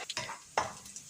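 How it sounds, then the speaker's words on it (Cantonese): Garlic slices frying over high heat in two tablespoons of oil in a wok, a brief crackling sizzle with a couple of quick stirring scrapes, fairly faint and close. "大火熱鑊，以下2湯匙油，油熱煎香10g 嘅蒜片20秒。"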